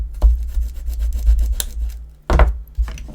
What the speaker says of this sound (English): And then I can centralise this with that. Just give that a rub.